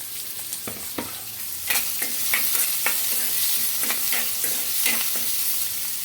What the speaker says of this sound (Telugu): ముందుగా కట్ చేసుకున్న ఆనియన్స్ ముక్కలు అయితే వేసుకోవాలి